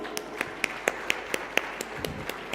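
A sparse burst of clapping from a conference audience at a deep tech innovation conclave in Visakhapatnam: roughly ten individual claps, evenly spaced and fairly quiet, with no crowd roar behind them.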